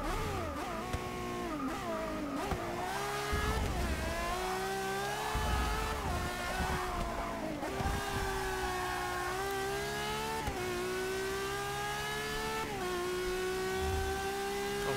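Ferrari V12 engine in Forza Motorsport 6, a continuous high-pitched wail rising and falling through gear changes, sustained and prominent with no talking over it.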